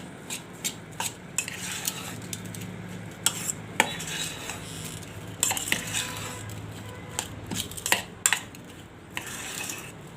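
A spoon stirs homemade curd into a puffed rice mixture in a bowl, producing close, repeated scraping and clinking taps in an irregular rhythm with no voices.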